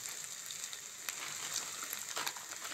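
Spiced masala sizzles and fries steadily in a pan as chili powder goes in, a continuous crackling hiss with small pops, close and alone, for a fish curry.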